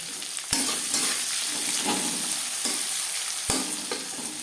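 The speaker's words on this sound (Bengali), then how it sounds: "ফোড়ন তেজপাতা শুকনো লঙ্কা ভেজে নেওয়ার পর দিয়ে দেবো পেঁয়াজ কুচি" Chopped onion goes into hot oil already tempered with bay leaf and dried chilli for a masoor dal dish, giving a steady close sizzle with a few sharp clicks of stirring, and no voices.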